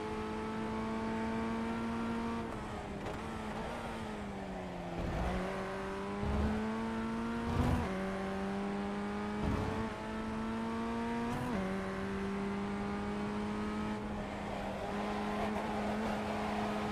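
Race car engine in the iRacing sim revving hard under throttle, its harmonic whine climbing and dipping repeatedly through corners with brief lifts and shifts, loud and steady throughout.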